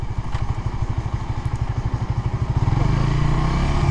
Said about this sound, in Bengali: ও মাই গড, পিছের চাকা স্কিড করছে